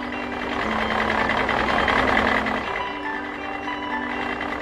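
Cartoon tractor engine running steadily at moderate loudness, a droning hum with sustained tonal lines and a slight pitch shift partway through, heard alone without speech.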